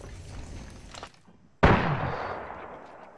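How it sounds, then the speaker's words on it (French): Gunshots in Apex Legends: a few faint muffled shots in the first second, then one loud sharp shot with a long decaying ringing tail. "J'aime bien tirer des petites balles comme ça"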